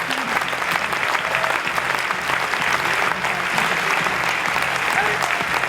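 A crowd claps steadily and loudly throughout after a Kali Escrima martial arts demonstration at a martial arts festival, with faint voices under the applause.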